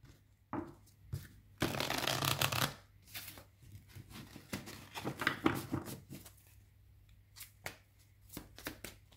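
Tarot cards being shuffled by hand in bursts of riffling and sliding, with a long dense flutter near the start and shorter crisp card flicks afterward, close and fairly quiet, with no talk.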